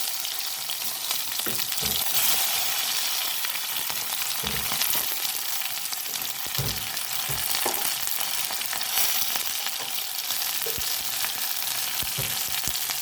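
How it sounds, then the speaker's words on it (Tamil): Continuous crackling sizzle of mustard seeds, chili and onion frying in hot oil for ambarella curry, with occasional thuds and scrapes of stirring. "இப்போ கடுகு, மிளகாய், வெங்காயம் போடுறோம்."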